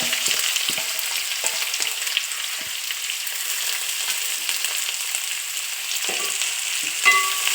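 Sliced onions and curry leaves fry in a pan, a continuous bright sizzle with occasional stirring clinks and scrapes, close and alone.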